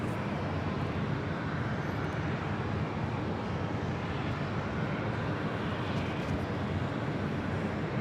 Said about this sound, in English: This MD-11 freighter was delivered to Lufthansa Cargo in 1998.